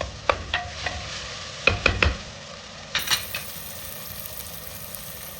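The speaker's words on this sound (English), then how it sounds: "We'll fry these onions for some time. Till they become pinkish in color." Chopped onions going into a hot pan for a mutton curry, with a few close clatters and scrapes of stirring in the first two seconds, then a steady quiet sizzle.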